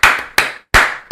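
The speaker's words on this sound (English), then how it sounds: "Let's give an applause to that" Four sharp, close hand claps in an uneven rhythm, loud and dry, from a lone person rather than a crowd.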